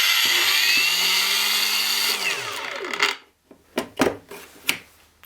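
A ProCraft PW2200 brushless mains-powered angle grinder whines steadily at high pitch, then winds down as the power cuts out; after a silence, several short bursts of the motor starting up again follow.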